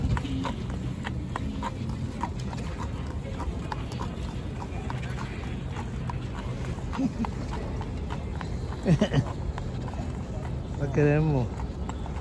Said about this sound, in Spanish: A ver el caballo que viene aquí.